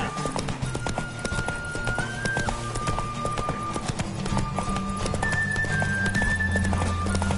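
A horse gallops hard in a race in The Witcher 3, its rapid hoofbeats pounding steadily and close over a background music score.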